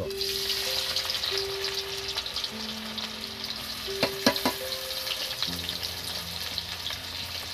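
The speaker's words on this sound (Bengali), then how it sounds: "পেঁয়াজটা আমি দিয়ে দেবো, ভেজে নেব। তেলটা আশা করি গরম হয়েছে।" Onions frying in hot oil give a continuous, close sizzle with a few sharp crackles, under faint sustained musical tones.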